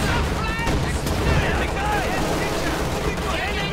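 Dense battle din from the Company of Heroes 2 war game: continuous gunfire with mortar blasts and explosions, a loud, unbroken barrage with no pause.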